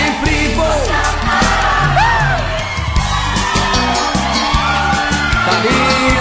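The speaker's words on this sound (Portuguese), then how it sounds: "o grito tá maravilhoso" A crowd at a brega pop concert screams and cheers loudly and continuously, with whoops and yells rising over a dense wall of voices throughout.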